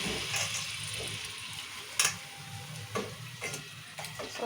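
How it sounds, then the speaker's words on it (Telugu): Chicken pieces frying in oil for a curry give off a steady close sizzle, broken by occasional scraping knocks as the pan is stirred. "చికెన్ వేసాను కదా చికెన్ కూడా మంచిగా కలుపుకున్నాను"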